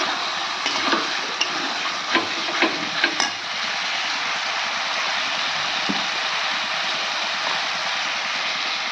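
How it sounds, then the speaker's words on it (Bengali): Mutton cooking down with ginger, onion, garlic, tomato and spices in a pan gives a steady, loud sizzle and frying hiss. A few scraping stirs stand out early, and no one speaks. "এবার আমি মাংসটা কষিয়ে নিই"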